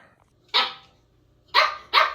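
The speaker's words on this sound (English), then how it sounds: "I got Henry barking behind the door." A dog barking behind a door: three loud, sharp barks, one alone and then a quick pair, with quiet between them and no talking.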